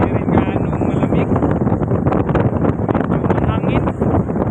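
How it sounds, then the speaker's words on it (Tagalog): Steady, loud wind buffets the microphone on a bridge, a continuous broadband roar with gusty swells and a faint rushing of passing traffic beneath it. "Medyo mahangin."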